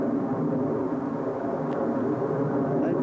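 An airplane passes overhead close to a runway, a broad, steady roar that stays loud and even throughout, with no voices.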